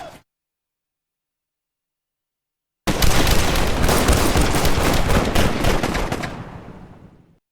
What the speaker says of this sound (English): Like there, one rifle's going off.